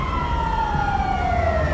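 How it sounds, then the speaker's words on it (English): Ambulance siren in the video game GTA V, a steady wail sweeping slowly downward in pitch over a continuous rumbling traffic-like background, loud and unbroken, with no talking. "Ambulance is going to pick him up."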